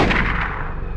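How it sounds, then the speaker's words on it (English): A single loud gunshot boom in the horror video game Silent Hill, a sharp blast with a rumbling tail decaying over about a second, close and alone. "Kinda just shot her in the head."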